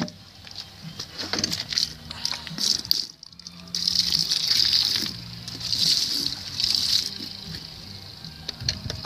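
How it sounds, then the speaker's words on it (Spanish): Water poured onto soil being repaired in a garden bed, a steady hissing splash that runs in several bursts, swelling and easing, with faint background sounds underneath. "Y pues le vamos a echar poquita agua."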